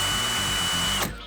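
A power drill whirs steadily at close range, spinning to wind a Clapton vape coil, then cuts off abruptly near the end with the hum dying away.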